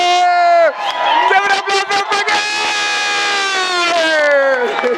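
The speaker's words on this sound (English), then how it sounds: "You shouldn't be all cheering" Wedding guests cheer and whoop loudly in a sustained burst of overlapping high-pitched shouts and calls, close by, swelling and dipping over several seconds.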